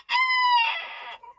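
A bantam rooster crows once, close and loud, a bright harmonic call of about a second that breaks into a rougher trailing end, with quiet surroundings.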